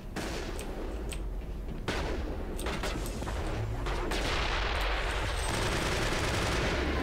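Sustained automatic weapon fire in a Mass Effect firefight, loud rattling bursts with sharp individual cracks and a heavy impact, continuing steadily over a dense combat background.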